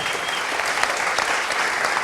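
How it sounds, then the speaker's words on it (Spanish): Audience applause at a climbing talk event in Barcelona, a dense, even wash of clapping from a crowd that carries steadily through the short stretch with no pauses. "Un último aplauso para Julio."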